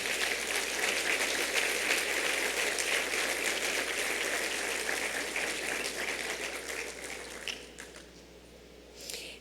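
Church congregation applauding together, a steady dense patter of many hands that gradually thins and fades toward the end.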